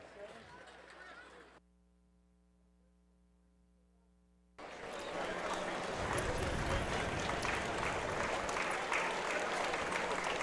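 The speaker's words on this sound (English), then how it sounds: "Lots of claps from our from our grandstand here" A grandstand crowd at an Urbana harness race applauds in a loud, dense wash of clapping that bursts in after a near-silent pause and holds steady to the end. A voice is heard briefly before the quiet gap.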